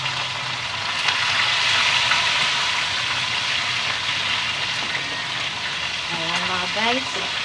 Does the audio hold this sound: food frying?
yes